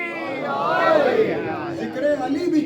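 A large mourning congregation at a Muharram majlis in Birmingham shouts back the Naara-e-Haidari slogan response in unison. The massed voices are loud and swell into a sustained, echoing roar that rises and falls over a few seconds.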